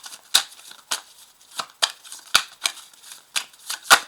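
Belline oracle cards shuffled by hand, a steady run of crisp riffling flicks roughly every half second, close and clear with no talk over them.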